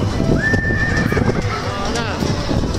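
A horse at a busy Berlin tourist spot gives a rising whinny that holds and then trembles down, near and clear, over hoof clip-clop and the murmur of people talking nearby.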